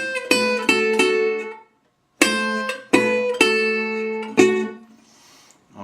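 A Delta blues guitar part, the thumb picking a four-note combination in separate plucked phrases with ringing harmonics, one short gap of silence midway; played alone and close, no voices.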